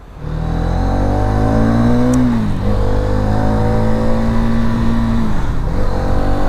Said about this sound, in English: There is absolutely no sense of strain even when we are revving the crap out of this engine